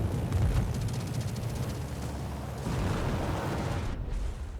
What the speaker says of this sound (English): Throws a couple of rockets. 3 rocket strikes.